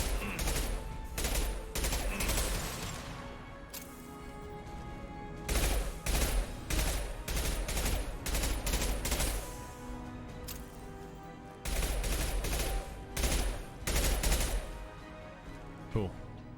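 Heavy recoiling gun in Mass Effect 2 fired in repeated loud bursts of rapid shots separated by short pauses, sustained through an extended firefight with speech mixed in.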